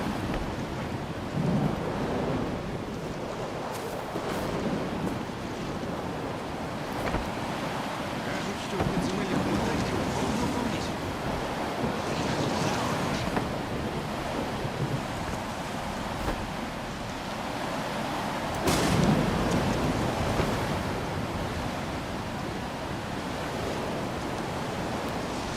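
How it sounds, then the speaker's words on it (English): A storm in the Stalker 2 video game rolls on with steady roaring wind, low rumbling thunder and a louder crack, sustained and fairly loud with a voice faintly underneath. "Incredible storm."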